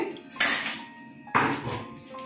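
A metal lid is lifted off a cooking pot of vegetarian chhakka made with chickpeas, coconut, potato, pointed gourd and pumpkin, giving two close, sharp metallic clanks about a second apart with a faint clattering ring after each.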